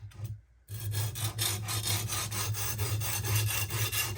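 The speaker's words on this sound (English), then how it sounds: "starting to grind on the stone." A knife edge grinds against the stone of a Sharpworx utility sharpener. After a brief pause a steady, close rasping begins, pulsing as the blade is worked back and forth.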